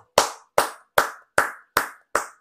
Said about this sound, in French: J'applaudis pour Ibrahim Traoré.